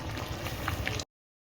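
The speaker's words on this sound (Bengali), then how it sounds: "এখানে মাটন ফুটছে" Mutton simmering in a pot gives a steady, close bubbling and gurgling that cuts off abruptly to silence for a moment before resuming.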